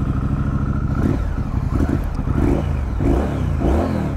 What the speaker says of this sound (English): the exhaust on this bike, for a standard exhaust, is just so much fun